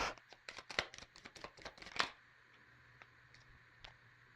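Tarot cards shuffled and drawn from the deck, a quick series of crisp papery flicks and slaps for about two seconds, then near silence with a few faint taps.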